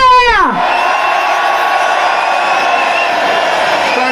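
Loud crowd cheering and whooping at a farmers' protest in Whitehall, London, in heavy rain; a sustained roar of many voices with horns, starting just after a falling shout and holding steady throughout.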